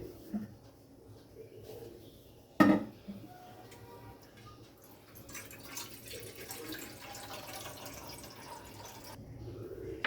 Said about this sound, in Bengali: আর এখানে একটা আমি পাত্র বসিয়েছি, তার মধ্যে দিয়ে দেবো আমি জল।